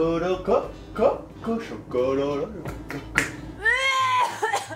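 A small female cat meows repeatedly at close range, several rising and falling calls in quick succession, with some snapping or clicking sounds and a person speaking between them indoors.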